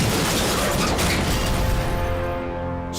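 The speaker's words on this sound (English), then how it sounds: "Smashing deep into the forest." A semi truck that hit black ice before dawn slides off the road into forest, heard as a loud sustained crashing rumble with breaking and smashing noise that slowly fades toward the end, with no voices.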